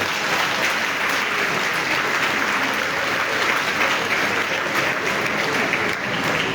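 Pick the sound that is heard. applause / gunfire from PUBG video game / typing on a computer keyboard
applause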